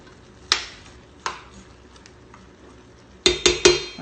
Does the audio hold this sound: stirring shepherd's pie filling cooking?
yes